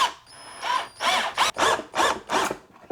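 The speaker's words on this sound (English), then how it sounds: "I'll just get a couple screws in to get it to align." A power drill drives screws into 3D-printed parts in several short bursts, each whirring up and stopping, close and fairly loud with brief pauses between.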